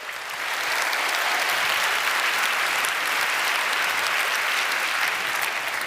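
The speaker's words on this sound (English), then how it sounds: "Let's have a warm round of applause for the Munk family and the late and great P" A large crowd applauds loudly and continuously, the clapping swelling in quickly and holding steady throughout.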